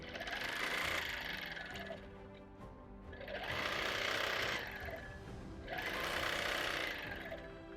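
Sewing machine stitching along a thick border line on a quilt, three rapid whirring runs of needle clatter separated by short pauses, close and fairly quiet.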